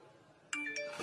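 Short electronic chime tones of a phone text message alert during a Hitman Freelancer mode game, two bright bursts starting midway and a third at the end, loud and clear over quiet background.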